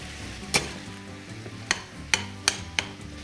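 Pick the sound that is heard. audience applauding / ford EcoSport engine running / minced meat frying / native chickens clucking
minced meat frying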